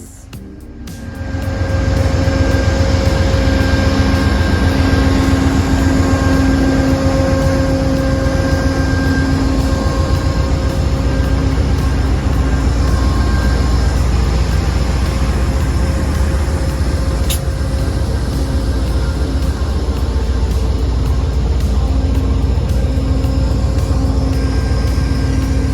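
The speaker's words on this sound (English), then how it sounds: "I decided to walk to the front of the train and get a look at that amazing P-42DC that brought us here" Amtrak P-42DC diesel locomotive heading a long-distance train, its engine droning loud and steady at close range, a constant rumble with tonal whine and no speech.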